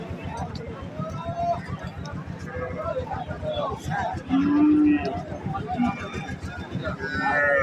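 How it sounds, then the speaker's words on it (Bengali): Farm cattle, Indian bullocks at a livestock market, lowing with a few clear moos, one long call in the middle, amid steady background chatter and footsteps. "কত সুন্দর সুন্দর গরু"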